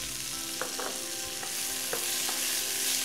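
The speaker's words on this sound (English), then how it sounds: "It is a combination of asparagus, mushrooms, and red onion. Going to add these to your hot pan." Asparagus, mushrooms and red onion sauté in a hot pan, a bright continuous sizzle with a few light taps and scrapes of a utensil turning the vegetables.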